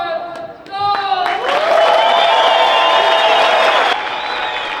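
A crowd at a disc golf tournament, the 2024 European Disc Golf Festival, breaks into loud cheering, whoops and sustained applause that swells after a few sharp calls, then eases off into lingering clapping.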